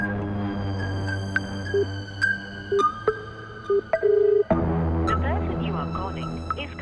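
A phone call's dialing tone sounds as a few short, evenly pitched beeps spaced irregularly over a low humming background, moderately close and clear.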